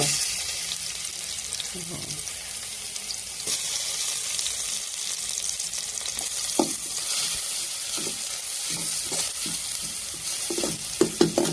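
Garlic and shallots fry in vegetable oil in a pot with a loud, continuous sizzle, broken by occasional knocks and scrapes of stirring.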